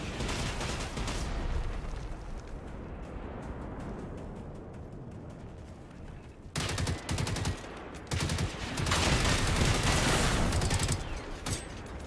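Enemy gunfire in the Generation Zero video game comes as rapid automatic bursts of loud, dense shots, pausing briefly before resuming with heavier, sustained volleys near the end.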